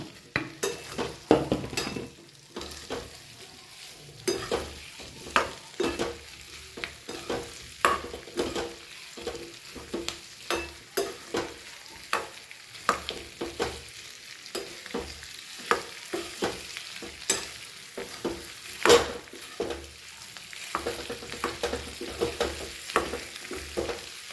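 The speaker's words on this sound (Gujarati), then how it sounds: "ઉપર શાકને તળવા દઈએ" Potatoes and peanuts sizzle and fry in a pan with repeated stirring scrapes and clinks of a utensil against metal, steady and close, no talking.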